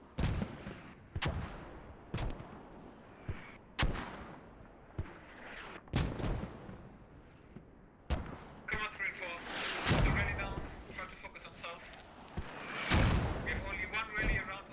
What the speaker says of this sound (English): these mortars are actually coming in from Old Hospital